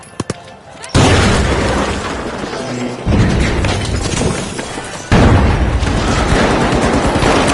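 Three heavy explosive blasts in the shooter game The Finals, each a sudden loud boom followed by a long rumbling roar, spaced roughly two seconds apart and close by.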